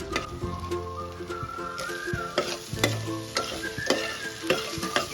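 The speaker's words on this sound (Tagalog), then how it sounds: "Maggisa ng bawang, sibuyas at luya." Garlic, onion and ginger sautéing in a pan, a soft sizzle broken by repeated sharp scrapes and clacks of a utensil stirring against the metal, quiet and close.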